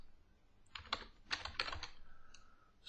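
Close, quiet typing on a computer keyboard, a short burst of several quick key clicks in two clusters, with no talking.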